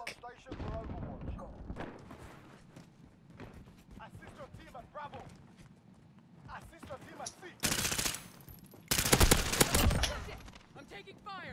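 Gunfire from a first-person shooter game, including a full-auto pistol: scattered shots and short bursts with two loud, dense sustained volleys near the end, under frequent talk.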